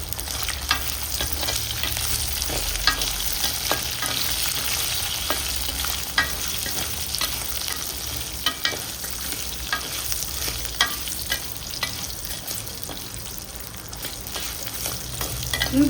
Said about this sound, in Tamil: பூண்டும் சின்ன வெங்காயமும் போட்டு வதக்கி எடுத்துக்கலாம்.